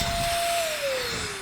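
A strong electric air duster blows in a steady, loud rushing hiss whose pitch slowly sinks as it runs, blasting small accessories off into a sink; close and continuous with no talking.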